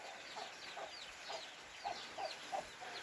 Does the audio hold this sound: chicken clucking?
yes